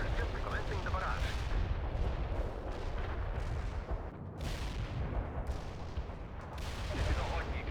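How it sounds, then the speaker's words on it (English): Artillery barrage in the World in Conflict video game: a dense, continuous roar of rumbling detonations and crackling fire, rolling on for several seconds with voices mixed faintly into the din. "Artillery strike on the way. Commencing the barrage."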